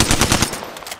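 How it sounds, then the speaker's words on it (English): Rapid automatic gunfire from the Apex Legends video game, a close, loud burst of quick evenly spaced shots for about half a second followed by fainter scattered reports. "Firing. Reloading. Taking fire."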